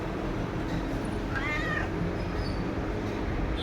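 Pet cat giving one short, clear meow in the middle over a steady background hum, with no one talking.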